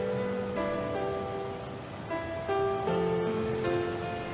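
Steady rain hisses over a gray town in a video game, a soft continuous wash with gentle melodic tones drifting above it and no one talking.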